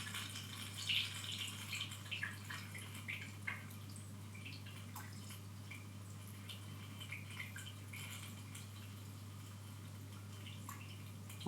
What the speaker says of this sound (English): just slowly pour that solution into the funnel.